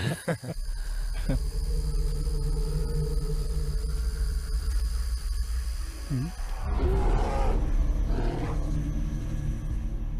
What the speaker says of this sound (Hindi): वो भालू की आवाज थी।